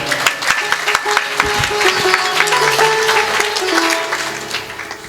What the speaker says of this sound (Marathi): त्यांच्यासाठी एकदा जोरदार टाळी वाजवा